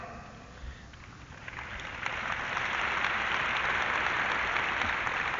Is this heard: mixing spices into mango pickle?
no